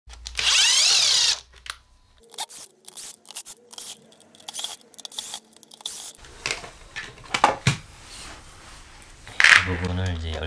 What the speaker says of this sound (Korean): 나사를 풀러주시고요.